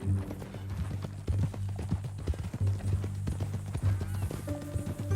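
Horse hooves clip-clop in a steady, close rhythm, with a low mechanical hum running underneath throughout.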